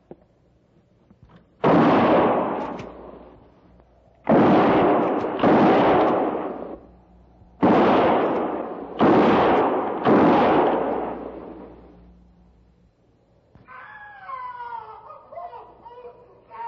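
Several loud gunshots, one single and others in quick pairs, blast out in a radio western drama, fired among trees during a frontier last stand, followed by fainter scattered noise.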